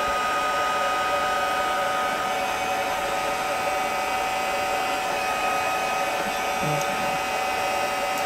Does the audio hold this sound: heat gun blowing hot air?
yes